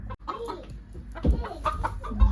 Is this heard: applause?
no